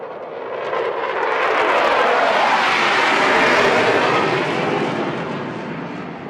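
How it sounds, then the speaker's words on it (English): A Pakistan Air Force fighter jet at an Independence Day flypast sweeps overhead with a loud, broadband roar that swells over about a second, holds steady, then fades slightly as it passes. "as the third fighter jet races towards the venue, its thunderous approach echoes unwavering resolve"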